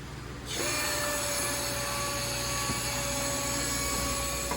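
A portable jib crane being rotated, a steady mechanical hum and whine that starts after a short quiet moment and holds evenly, close and alone.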